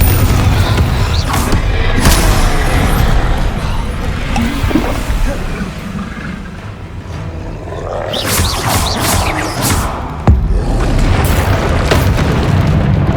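A Confringo fire spell bursts in Hogwarts Legacy, a loud booming explosion amid dense, roaring game combat that keeps going across the whole stretch, with several heavy impacts and no one speaking.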